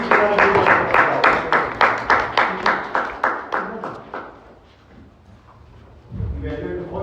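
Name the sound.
audience applause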